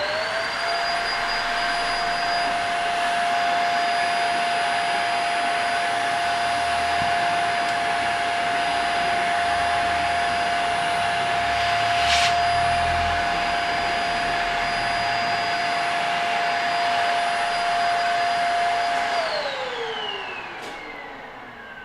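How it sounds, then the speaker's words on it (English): A vacuum cleaner runs close while cleaning out a PC, with a loud, steady whining roar for about twenty seconds before it switches off and winds down. No one speaks. "since you guys like vacuum sounds"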